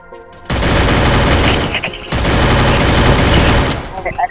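Dense automatic gunfire erupts in a Garena Free Fire match, loud and close, two sustained bursts separated by a brief pause, followed by scattered smaller shots.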